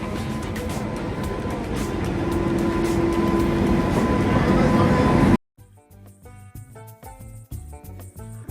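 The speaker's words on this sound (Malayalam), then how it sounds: "നമുക്ക് പോകാൻ ട്രെയിൻ വന്നു." A train pulls into Thiruvananthapuram railway station, its rumbling, rising roar building steadily and loud for several seconds before cutting abruptly to a quieter stretch with a faint voice and a musical backdrop.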